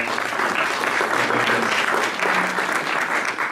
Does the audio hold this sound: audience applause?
yes